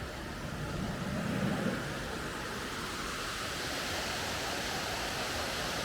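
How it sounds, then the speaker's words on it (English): A waterfall in Donegal, Ireland roars in a steady, broad rush of falling water, constant and fairly close, with no voices over it. "have you ever parked your home next to a waterfall?"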